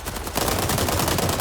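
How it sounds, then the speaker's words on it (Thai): Rapid bursts of automatic gunfire in a free-to-play shooter video game crackle continuously, loud and close, with a denser volley after a brief quieter start. "นี่เสียงคนยิงอ่ะ"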